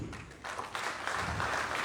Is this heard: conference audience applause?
yes